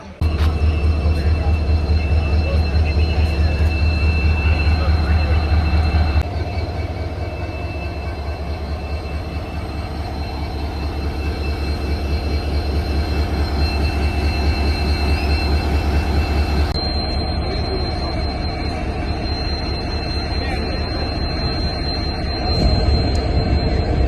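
The Pamban Express train from Rameswaram to Tambaram rolls steadily along the rails with a continuous loud rumble and rhythmic clatter, with faint squealing of the wheels and no talking.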